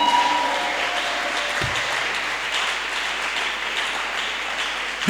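A church congregation applauds loudly and continuously, a dense wash of many hands clapping that holds steady throughout.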